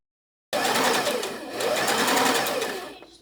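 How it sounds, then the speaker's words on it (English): A sewing machine stitching darts on the bodice pieces of a doll dress: a fast, steady, close whirring hum that starts abruptly and drops away just before the end. "I started assembling by sewing the darts on all of the bodice pieces"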